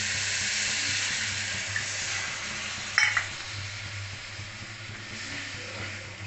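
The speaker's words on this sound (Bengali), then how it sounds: "আমি এখন দিব সামান্য একটু জল।" Spiced masala sizzles in a pan on the stove as a little water is added, giving a soft steady hiss with a brief burst of crackling partway through, fairly quiet and without talk.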